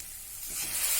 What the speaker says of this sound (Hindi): पाउडर मसाले मिला देंगे। इन्हें जरा सा हिला के अच्छे से